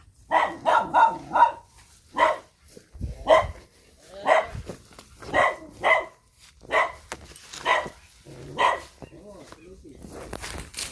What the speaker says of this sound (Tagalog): Mga aso na lang naiwan dito.